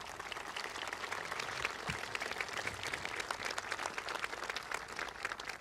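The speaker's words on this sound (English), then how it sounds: "Please give him a round of applause." Steady applause from a large outdoor ceremony crowd at an Australia Day citizenship and flag raising event, a continuous wash of many hands clapping at moderate distance without pause.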